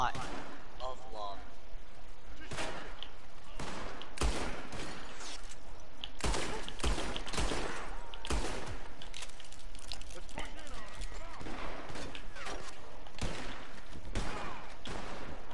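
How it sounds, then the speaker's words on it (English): Video game shotgun blasts and other gunfire boom in loud bursts through a Pinkerton-themed game, dense and close, with a player talking throughout. "That was a shotgun."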